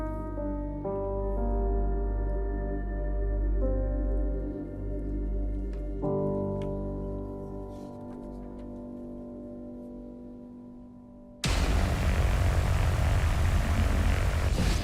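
Propeller airplane engine droning on approach for an icy landing, a steady loud hum with harmonic tones stepping down in pitch, then a sudden burst of broad roaring noise near the end.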